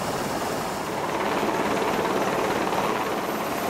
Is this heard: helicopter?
yes